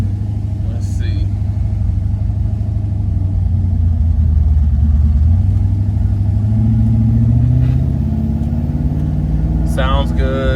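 A 1978 Oldsmobile Cutlass engine pulls hard from inside the car, its deep rumble climbing in pitch and then dropping at a smooth gear change before rising again, with a voice briefly heard near the end.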